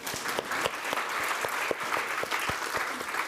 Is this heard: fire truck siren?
no